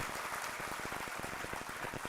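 Quiet, distant applause from an audience at a motivational talk, a continuous patter of many hands clapping at low level.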